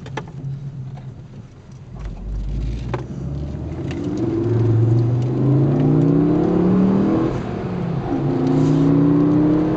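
A Ford Focus ST's 270 hp five-cylinder turbo engine pulls hard from inside the car, a rising growl climbing through the revs, dipping at a gear change and building again, loud and steady with road rumble underneath.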